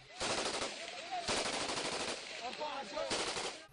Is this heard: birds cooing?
no